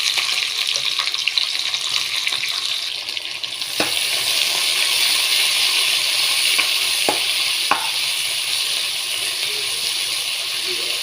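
Onions and green chillies frying in hot oil in a pan, a steady bright sizzle throughout with a few stirring clicks, close and loud, no talking.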